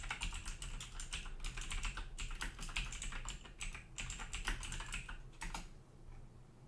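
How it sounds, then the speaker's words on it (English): Someone types a command on a computer keyboard in a quick, continuous run of quiet key clicks, alone and close, with a brief pause near the end. "We'll then type the command to restart the service."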